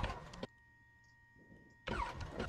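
A DHC-1 Chipmunk in a flight simulator cranks and fires up: a loud engine burst, a near-silent pause with faint hum, then the engine catches and roars steadily and loudly.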